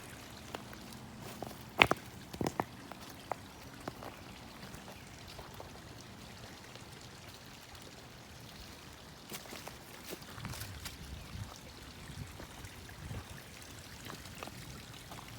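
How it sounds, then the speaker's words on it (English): Gentle water trickling and flowing steadily down into a garden pond, with a few louder splashes and drips, quiet and outdoors with no voices. "Water comes down here into a lower pond"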